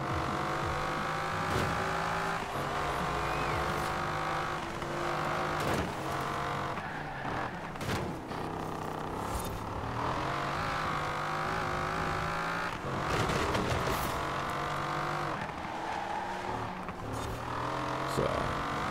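Car engine in the racing game Forza Horizon 4, a steady loud drone with shifting revs and tonal whine throughout, occasional gear changes and bursts of acceleration, no talk.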